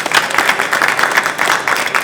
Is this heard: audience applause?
yes